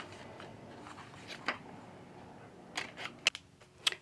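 Paper calendar corners for a planner being rounded with a corner cutter, giving a few sharp, separate clicks and snips close by, spaced out after a quiet stretch, with no talk.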